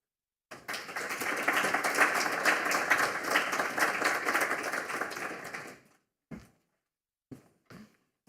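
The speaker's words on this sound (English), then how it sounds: "I guess I'd call that preemptive clapping because I haven't said anything yet" Audience applause at the T4SD Forum 2022 in Geneva, a dense burst of clapping lasting about five seconds before fading into a few isolated claps and taps.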